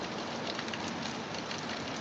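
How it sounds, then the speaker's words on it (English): Steady, dense rain hiss with fine patter of drops on an old wooden house, fairly quiet and continuous, no voices. "nice rain"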